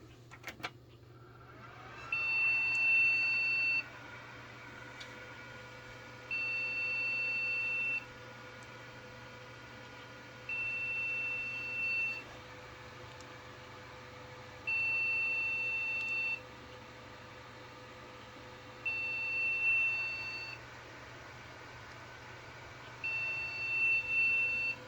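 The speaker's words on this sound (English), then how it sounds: "This is like actually the first time I'm ever hearing beeping errors out of this computer." An HP Pavilion a1213w desktop computer sounds a repeating beep error code: clear, steady high-pitched tones come in evenly spaced bursts of about two seconds each, one after another, over a low continuous hum of fans.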